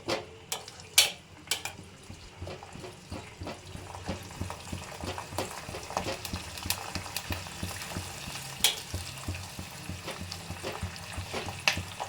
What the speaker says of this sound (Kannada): ಆ್ಯಕ್ಚುಲಿ ಚೆನ್ನಾಗಿ ಕುದಿಬೇಕು.